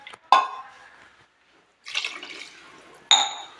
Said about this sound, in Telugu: 4 గ్లాసులు వాటర్ వేస్తున్నాను.